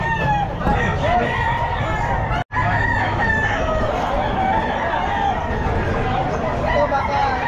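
Sweater gamefowl roosters crow at a busy pet market, repeated loud crowing calls layered over constant crowd babble and nearby voices.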